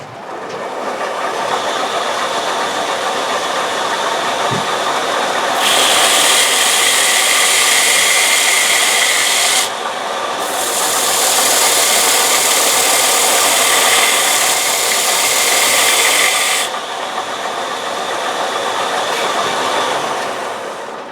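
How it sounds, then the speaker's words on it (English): Power sanding of a wooden platter with 180-grit paper in a workshop: a loud, continuous machine whine over a steady background hum, rising into harsher sanding bursts separated by a short pause. "Okay, so it's dried, and now we're going to sand it off."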